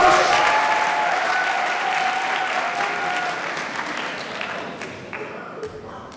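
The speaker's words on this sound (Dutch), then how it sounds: "Applaus." A show audience breaks into loud, dense applause that fills the room and slowly tapers off over several seconds, with a few scattered claps lingering at the end.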